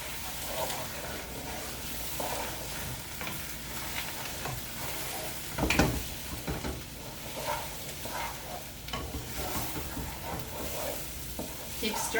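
Eggs, cracked beforehand in a bowl, are stirred while they fry in a pan, giving a soft steady sizzle with faint scraping strokes throughout and one louder clatter near the middle.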